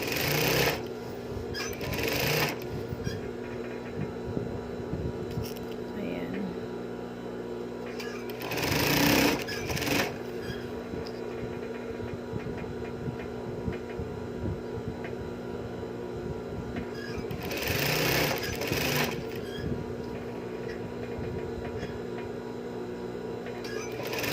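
Close by, a sewing machine stitches piping onto a sleeve with a steady, rapid mechanical chatter and hum, swelling in short louder bursts as the pace picks up, while someone talks quietly over it.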